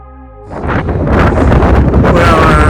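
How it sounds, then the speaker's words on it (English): Strong wind gusts buffet the microphone on a ridge trail along the Pacific Crest Trail, rising from quiet into a loud, continuous roaring rumble that swells and stays close and heavy. "Trying to talk through the wind here"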